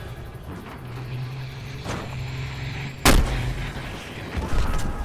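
A sniper rifle fires in the video game Battlefield Hardline, a single sharp, loud crack midway that stands out over low engine rumble and fainter distant shots.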